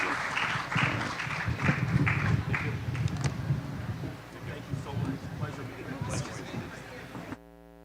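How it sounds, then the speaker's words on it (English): An audience at a forum on economic justice for peoples of African descent applauds its panelists, a dense, fairly loud clapping wash mixed with voices and a low hum, tapering before an abrupt cut. "Let's give a strong round of applause to our panelists."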